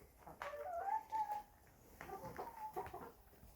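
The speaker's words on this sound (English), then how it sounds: "thank goodness we got all our chickens" Farm hens in Portugal clucking and murmuring nearby, a few short bursts of soft, throaty calls with brief pauses between them, fairly quiet and without talk.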